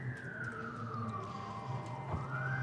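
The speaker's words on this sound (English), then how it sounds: "We've got the police sirens." Police car sirens wailing at a distance during a live women's cricket match, a faint descending tone that sweeps back upward, heard alone over low background rumble.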